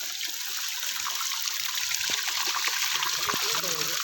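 Stream water trickling and splashing steadily close by as someone washes their face on a trek, with a few brief voices faintly underneath.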